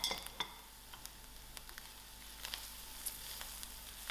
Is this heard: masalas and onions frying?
yes